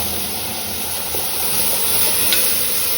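Radhuni seeds tempering in hot oil for dal, giving a steady close sizzle and hiss with faint stirring scrapes throughout, and no voices.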